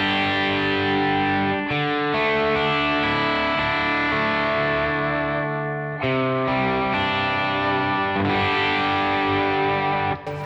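A PRS Studio electric guitar plays in a driven, overdriven tone with thick sustained chords and clearly articulated notes, loud and continuous with brief breaks between phrases and no talking.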